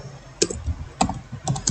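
Typing on a computer keyboard while entering SQL insert commands, a few sharp, close key clicks in small irregular bursts with short pauses between, alone without talk.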